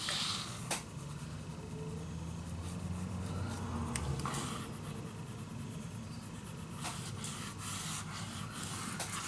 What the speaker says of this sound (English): And just take your time to burnish this down.